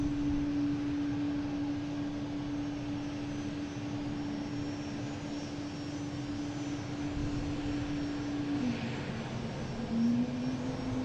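Aer Lingus airliner departing for Dublin from Boston Logan, a steady jet engine roar with a sustained tonal whine that dips near the end, continuous and fairly distant.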